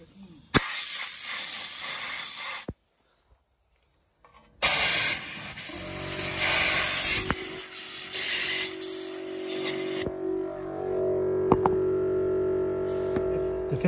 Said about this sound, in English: I find sometimes when it's a lot of dirt and rubbish on the bolt, is just get a compressor. Compress there and just blow them off.